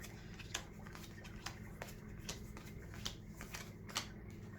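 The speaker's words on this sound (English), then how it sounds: "Then we're going to deal out 10 building cards." Building cards for the board game Propolis are dealt out in a series of soft, close card snaps and slides over a low, steady background hum.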